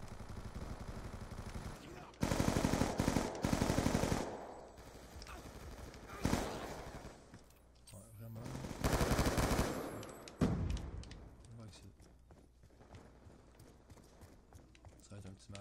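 Bursts of rapid automatic gunfire from Call of Duty Black Ops 2 on Xbox 360, loud volleys of a few seconds each separated by quieter game ambience and single shots.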